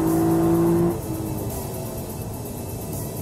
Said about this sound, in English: Just gotta love this 5-liter V8, nothing like it.